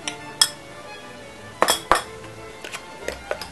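A utensil clinks against a bowl while beaten eggs and Parmesan cheese are mixed together, giving a handful of sharp, close taps spaced irregularly over light background noise.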